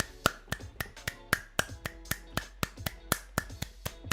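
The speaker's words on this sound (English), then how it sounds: "I'm gonna clap till I lose faith in humanity" Sharp, evenly spaced hand claps ring out alone, about four per second, close and crisp in a steady rhythm.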